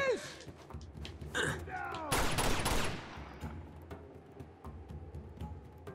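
Bursts of gunfire from Uncharted 2: Among Thieves ring out with thuds and impacts, peaking in a loud, dense volley midway, while a voice talks amid the action and shots continue sporadically afterward.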